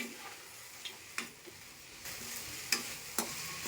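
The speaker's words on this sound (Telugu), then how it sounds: "అందుకని మధ్య మధ్యలో కలుపుతూ వేయించుకోవాలి." Ingredients for Bandar chutney stirred and frying in a pan, a soft steady sizzle with a few sharp scraping clicks of the spoon at intervals, close and fairly quiet with no talking.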